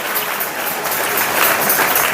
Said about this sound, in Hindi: ताली बजा के प्रभु के नाम को महिमा